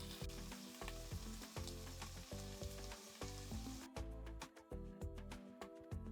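Prawns sear in hot oil in a pan, giving a loud, steady sizzle throughout with a busier crackle of spitting oil toward the end.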